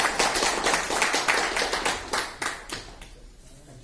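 An audience at an LIC branch gathering claps together in a brisk burst of applause that thins out and fades toward the end.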